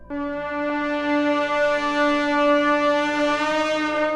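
In a video game, a brass acoustic tuner strikes a stone wall, ringing out into a long, pure, sustained tone with rich overtones, hanging eerily and slowly fading without any talk.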